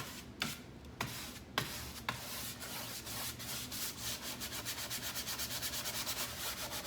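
Someone scrubs a wooden picture frame to give it an aged, distressed look. A few sharp knocks come first, then a steady, close rubbing with quick, even back-and-forth strokes.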